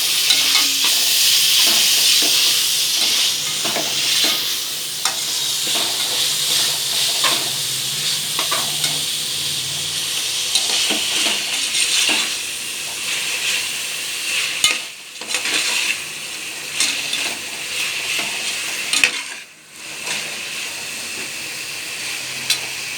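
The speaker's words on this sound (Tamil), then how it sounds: "நல்லா வதக்கிக்கோங்க" Coriander powder and salt sauté in a hot oiled pan, a steady bright sizzle broken by stirring scrapes and clinks of a spoon against the pan, with no talking.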